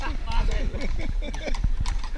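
Horse hooves clip-clop steadily on a Helsinki street as the animal pulls a carriage, with people talking loudly over the rhythmic footfalls throughout.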